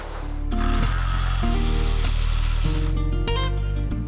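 A ratchet working nuts loose on a BMW F30/F80/E60 exterior part, heard as a loud, close, steady whirring mechanical drone with a few shifts in pitch and a sharp click near the end.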